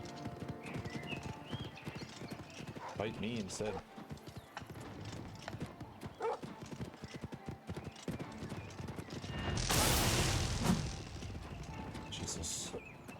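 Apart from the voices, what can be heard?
horse hooves and neighing in video game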